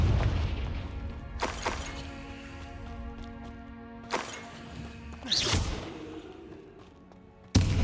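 Confringo spell explosions in the Hogwarts Legacy video game, a few sharp booming blasts spaced seconds apart over a low ambient rumble, the last one loud and abrupt.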